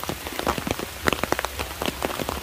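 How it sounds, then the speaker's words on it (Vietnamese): Rain falls steadily on a hard surface outdoors, dense patter of drops with sharper individual splashes close by, no voices. "Thì trời hiện tại mưa vẫn chưa hết luôn quý cô chú anh chị."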